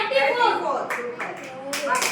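Hand claps in a counting game, a few sharp separate claps in the latter half after someone speaks, close and clear.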